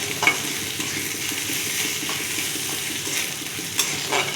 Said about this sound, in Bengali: পেঁয়াজ রসুনটা ভালো করে ভেজে নিচ্ছি।